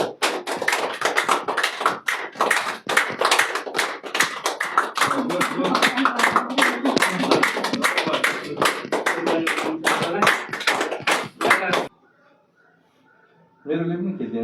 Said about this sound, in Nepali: ताली ताली ताली ताली ताली।